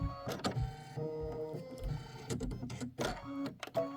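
Embroidery sewing machine stitching a satin-stitch flamingo block for a quilt, a close mechanical whir with rapid rhythmic needle clatter and brief pauses and shifts in pitch, with no talking.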